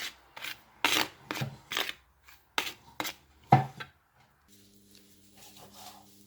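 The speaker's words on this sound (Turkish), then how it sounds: "Şimdi bunu güzelce karıştıracağım." A dry mixture of flour, salt and black pepper being stirred briskly, a series of rasping, scraping strokes in an uneven rhythm, close and clear, fading into faint background hum near the end.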